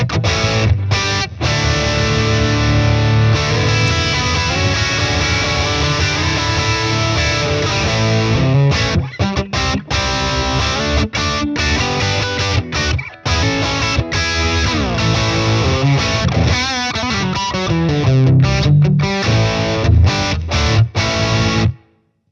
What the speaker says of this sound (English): Now let's go into some crunch sounds and tone, see how it sounds.